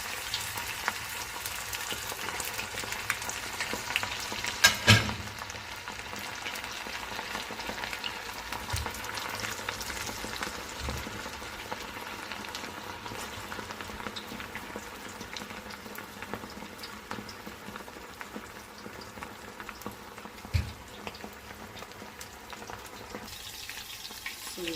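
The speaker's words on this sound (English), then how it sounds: "We are deep frying them." Meatballs deep-fry in hot oil, with a steady, quiet bubbling sizzle and occasional soft clinks, continuing without any talking.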